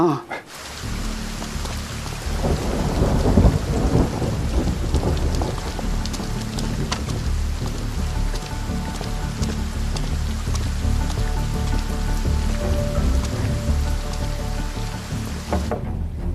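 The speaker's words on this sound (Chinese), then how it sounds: "你说这雨下这么大，这要是不停的话，可怎么办呀？" Heavy rain pours steadily throughout, a dense hissing roar with low thunder rumbling underneath, no voices breaking through.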